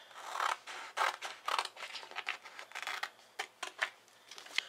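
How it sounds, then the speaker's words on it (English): Paper being cut by hand during a print-then-cut craft project, a rapid series of close, crisp snips and rustles with short pauses between cuts. "I'm going to cut this."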